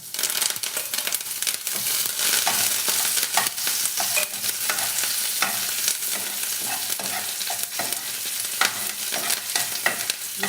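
Mustard seeds, urad dal, garlic and curry leaves crackle and sizzle in hot oil in a pan for a sweet potato fry, with constant close stirring and scraping over the steady fizz.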